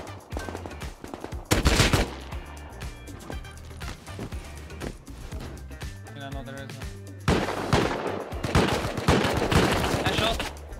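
Gunfire in the survival game Rust: dense bursts of automatic weapon shots, loud and close, with rapid repeated cracks clustering in heavy volleys and brief lulls between them.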